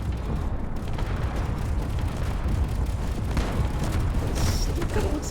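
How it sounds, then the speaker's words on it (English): Gunfire explosions in a Space Engineers lake battle between AI ships, a continuous dense rumble of booms and blasts with no clear gaps, fairly loud throughout. "It's a lot of explosions for a whole lot of nothing."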